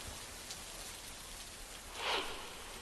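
Heavy monsoon rain pours steadily during flooding in Sawai Madhopur, Rajasthan, a faint, even hiss with a brief louder swell near the end.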